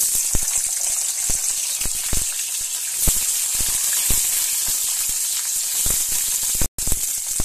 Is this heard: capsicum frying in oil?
yes